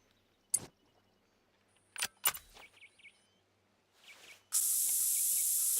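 A spray hisses loudly and steadily through the final second and more, continuing to the end. Before it come several sharp clicks and bumps inside a video game.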